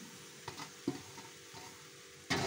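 Chopped taro leaves frying in a pan with salt, ground chili and turmeric, stirred with a few soft scrapes and a steady faint sizzle that swells louder at the end.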